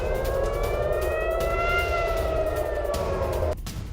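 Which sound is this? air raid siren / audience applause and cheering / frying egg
air raid siren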